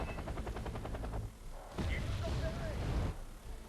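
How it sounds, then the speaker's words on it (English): Artillery shells rain down in the video game Wargame: AirLand Battle, a dense stretch of heavy booms and rumbling impacts with rapid repeated firing early on, loud and continuous over a low roar. "You can hear more artillery coming down on my poor Alouette"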